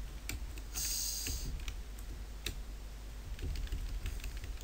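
A computer keyboard is hammered with quick, uneven bursts of clicks while someone plays the NES game Action 52, all faint and close by with no talking.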